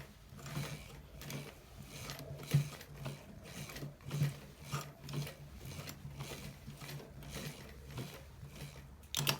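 A sewing machine stitches a designer shirt collar, running in uneven bursts of rapid mechanical clatter with short pauses and a low motor hum between runs.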